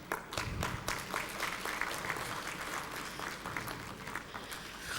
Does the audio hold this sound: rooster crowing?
no